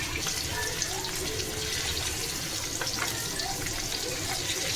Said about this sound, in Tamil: மீன் போட்டுட்டு எல்லா மீனும் போட்டு நல்லா வறுத்து எடுத்துக்கலாம்